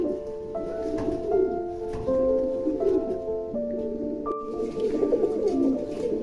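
Large fancy pigeons at a breeding farm coo in a steady run of low, warbling calls close to the microphone, overlapping and rising in bursts.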